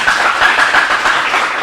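Applause from a school quiz audience for a team member of Lycée National de Pétionville, heard as a steady, dense wash of clapping filling the whole short stretch at even loudness.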